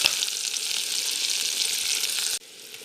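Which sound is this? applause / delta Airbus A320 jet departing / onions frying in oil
onions frying in oil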